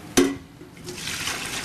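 Soy milk is poured into a tofu box in a tofu-making kitchen: a sharp splash at the start, then a soft, steady liquid rush and trickle.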